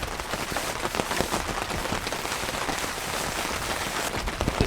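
Heavy rain drums steadily and loudly on a cabin, a dense, unbroken hiss of drops with no voices.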